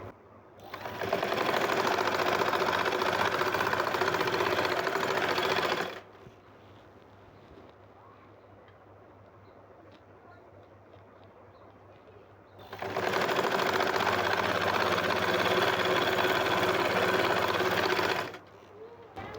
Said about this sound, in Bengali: আমি নিচের কাপড়টা সেলাই করে নিয়েছি